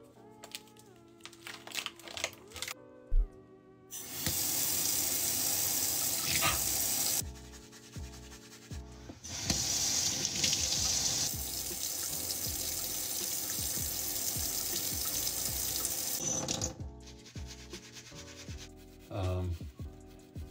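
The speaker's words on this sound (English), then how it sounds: "So we have a student presumably scrubbing here." Surgical hand scrubbing at a sink under running water, with long bursts of brisk brushing and rubbing over the flowing tap, close and steady, broken by short pauses and a few knocks.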